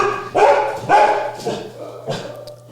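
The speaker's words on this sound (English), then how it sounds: "Jimmy starts the barking, and then Goofy and Dwayne chime in" Several shelter dogs bark in a loose series of four loud woofs, close by, with a steady low hum underneath.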